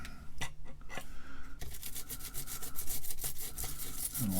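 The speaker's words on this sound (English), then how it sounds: "scrub a little bit" An anti-static brush scrubs an S-100 circuit card between its transistors, giving close, quiet, raspy bristle strokes, a few separate rubs and then a quicker, denser scrubbing run.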